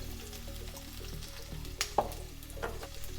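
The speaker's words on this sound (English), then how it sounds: "Just turn the gas a little bit low so that it won't burn and immediately add all the potatoes" Potatoes fry in hot oil for a tadka, giving a steady soft sizzle with a few sharp clinks and scrapes from stirring, close and moderately quiet, no talk.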